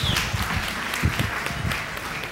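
An audience at an international music festival concert in Los Angeles claps steadily in welcome, a continuous crowd of hands at moderate volume with a few louder bursts, and no speech over it.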